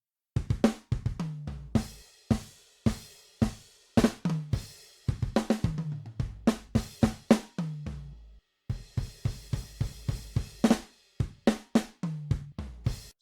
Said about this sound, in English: the Midi drum sounds like this without all the effect on